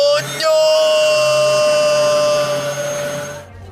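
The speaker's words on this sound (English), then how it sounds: "With my cyber vacuum, I will suck up all the badness from the web." Steady loud mechanical whine of a vacuum cleaner with a strong high-pitched motor tone that starts abruptly and holds for over three seconds before cutting off, close and alone.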